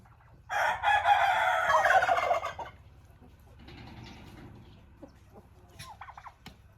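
Rooster crowing loudly in a chicken coop, one long harmonic crow followed by softer clucking and chicken calls, close by with no talk.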